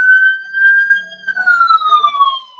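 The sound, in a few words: police siren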